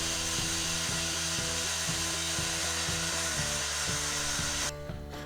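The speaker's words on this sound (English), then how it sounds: "I then cut off a bolt to the appropriate length to fit the hole I drilled in the post and through the plate." A bolt is cut to length with a power tool, giving a loud continuous grinding whine with a steady, rapid rhythmic pulse that cuts off abruptly near the end.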